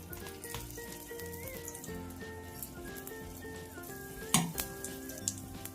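Maida kuli paniyaram batter frying in oil in a pan, a soft steady sizzle with light crackles and one sharper clatter near the end, close and fairly quiet, with a faint tonal hum in the background and no talking.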